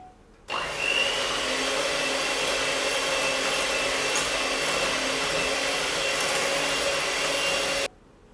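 An electric mixer whirs steadily and loudly for about seven seconds, with a sharp start and stop, as banana muffin batter with brown sugar, white sugar and vanilla essence is mixed, and no one speaks.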